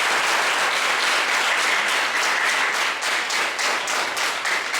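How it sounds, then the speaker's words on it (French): Sustained applause from a crowd in Houéyogbé, Benin, greeting a traditional king of the Sahouè, a dense continuous clapping that stays loud and even throughout. "applaudissez pour ce roi qui a fait"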